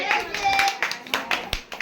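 A child gives a few quick hand claps, sharp and close, while voices talk over them.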